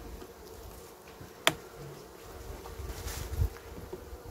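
A low, steady buzz of honeybees at an open hive, with frames being handled, hums throughout, with a single sharp tap and some faint handling noise.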